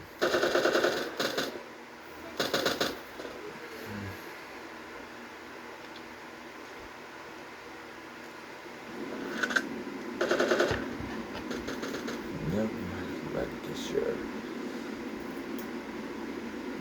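Gunfire in the online shooter game Sudden Attack comes in short automatic bursts, separated by pauses, over a steady hum of game ambience at fairly low volume.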